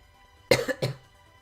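Two quick, close coughs in a row, short and raspy, with near silence before and after.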